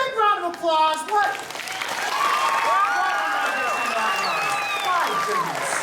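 A live show audience breaks into applause and cheering after a brief spoken line, the clapping swelling into a sustained crowd roar with high excited voices and whoops threaded through it.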